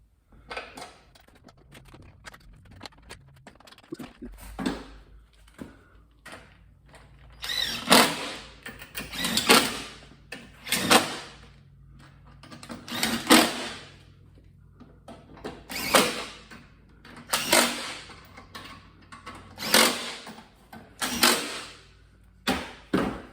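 A power drill drives screws into the underside of a 2012 Mercedes S550 W221 during an oil change, giving repeated short whirring bursts separated by pauses, with faint ratchety clicks between them.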